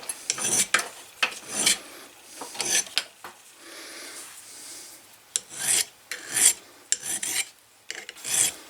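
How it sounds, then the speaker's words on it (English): Sandpaper rubs back and forth over the steel head of a budget leathercraft hammer in a run of rough, rasping strokes. It starts in bursts, eases into a softer steady scrub midway, then returns to firm strokes, with no talking. "you'll have to, of course, do some work with the sandpaper to do a little correction here and there"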